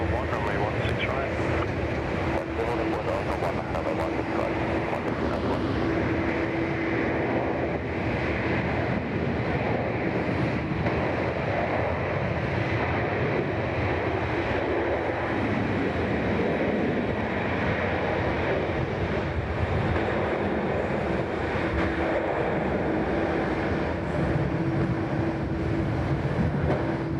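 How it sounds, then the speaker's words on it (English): An Airbus A330-300 with CF6 engines at Sydney Airport, a loud sustained jet engine roar with a steady tonal whine, heard outdoors while someone talks over it and air traffic control chatter plays. "sounds fantastic. The CF6s on the A330."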